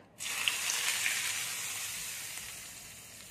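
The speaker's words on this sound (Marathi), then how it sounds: "आता जी आपली फोडणी तयार आहे ती याच्यात ओतून घेऊया।" Hot tempering of cumin and mustard seeds in fat is poured onto a grated carrot salad, setting off a sudden bright hiss that settles into a steady sizzle and slowly fades, with no speech.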